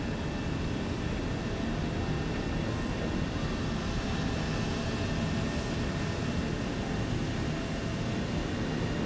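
A Horten 229 V3 jet flying in a World War II combat flight game, a steady loud broadband engine roar with a constant droning whine that holds throughout, no voices over it.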